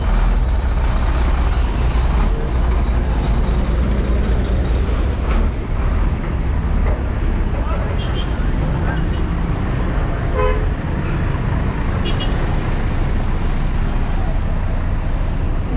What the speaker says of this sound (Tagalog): Grabe yung traffic ngayon